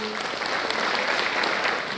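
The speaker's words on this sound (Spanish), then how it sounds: "Un elevado y gran voto de aplauso a los señores que nos han auspiciado." Audience at a ceremony for an innovators' contest applauds its sponsors with steady, dense clapping that stays even and loud throughout, filling the space without pause.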